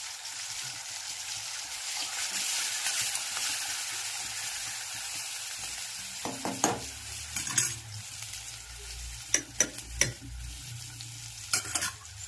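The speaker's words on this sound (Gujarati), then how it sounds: "સરસ મજાનો અડદની દાળનો વઘાર થઈ ગયો છે" A tempering of tomato, curry leaves, salt and spices for urad dal sizzles steadily in hot oil, with several sharp spoon clanks against the pot as it is stirred toward the end.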